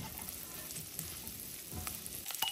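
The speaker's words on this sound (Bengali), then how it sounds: "রসুনটা একটু ভাজা করে নেব।" Garlic sizzles in melted butter in a pan, a steady soft hiss of frying that carries on throughout without any talk.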